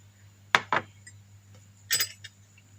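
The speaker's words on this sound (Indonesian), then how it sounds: "Ketika gelas yang telah berisi air diketuk menggunakan sendok, maka akan menghasilkan getaran pada gelas" A spoon taps two glasses filled with different levels of water, giving a pair of close bright clinks followed by another pair of ringing clinks and a faint extra tap, near and clear against a low steady hum.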